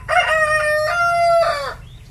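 Rooster crowing at a farm coop: two loud, drawn-out harmonic crows close by in quick succession, the second fading out, over a low murmur of background clucking.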